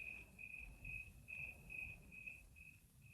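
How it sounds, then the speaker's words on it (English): Crickets chirp steadily at night in the Grand Canyon in short, evenly spaced bursts, fairly faint over a quiet low background hum. "We dozed off listening to those noisy crickets."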